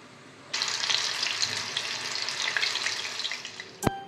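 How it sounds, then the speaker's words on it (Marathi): Green chillies frying in hot oil for Nashik-style pav vada, a steady close sizzle that bursts on abruptly and crackles evenly for several seconds, ending with a few clinks. "हिरवी मिरची आपण तळून घेणार आहोत."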